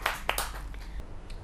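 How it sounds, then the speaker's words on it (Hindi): A few sharp hand claps ring out at a Hindi kavi sammelan poetry gathering, welcoming a poet, then quickly thin into scattered, fading claps. "बहुत ज़्यादा जोरदार तालियों के साथ, करतल ध्वनि के साथ स्वागत किया जाए भुवनेश सिंघल जी का।"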